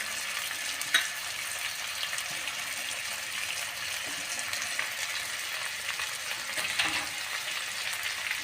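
Red tomato and chopped green garlic frying in a pan give off a loud, continuous sizzle with soft stirring scrapes and a couple of sharper knocks, steady throughout without talk.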